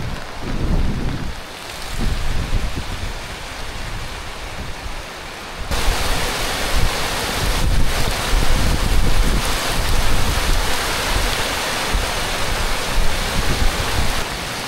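Heavy rain pours in a dense, roaring hiss that swells sharply louder partway through and keeps up steadily, with low rumbling beneath.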